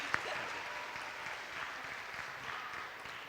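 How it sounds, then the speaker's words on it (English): A school audience applauds at a Teacher Appreciation Day event, steady dense clapping heard faintly from a distance, with a single brief sharp sound near the start and no voices over it. "Round of applause, everybody."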